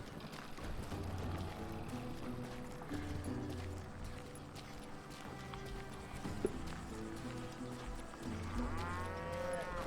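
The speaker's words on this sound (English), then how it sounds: "Oh, cows." Cattle moo in the Western video game Call of Juarez Gunslinger, several drawn-out lowing calls at moderate distance over a quiet ambient bed, with hoof clip-clops and faint activity around them.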